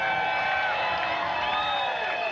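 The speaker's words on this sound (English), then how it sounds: "So give them a round of applause." An audience aboard the Legendary Rhythm and Blues Cruise 2007 cheers and claps in a dense, continuous roar, with whoops and whistles rising above the crowd noise throughout.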